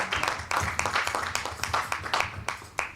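A church congregation claps together in worship, a dense, steady patter of many hands with sharper bursts now and then, fairly close and continuous throughout.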